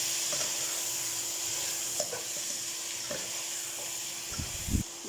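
Squash and bitter melon are stirred in a pan over a constant soft sizzle, with occasional light clinks of the utensil and a louder scrape near the end, close and with no talking.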